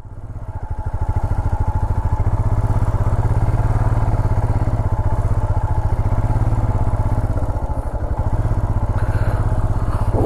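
A motorcycle engine runs steadily near a beach at Kothapatnam close to Ongole. Its loud, close, low throb holds without a break and nobody speaks.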